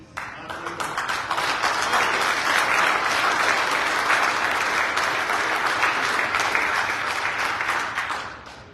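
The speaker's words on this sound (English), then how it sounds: "Yeah, that's something to clap for." Sustained applause from a seated crowd at a Muslim janazah funeral service, a dense even clapping that swells quickly, holds steady for several seconds and then fades away, with no talking over it.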